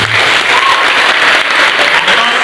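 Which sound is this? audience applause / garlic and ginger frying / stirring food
audience applause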